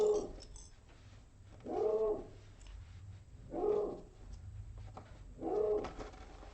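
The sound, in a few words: dog barking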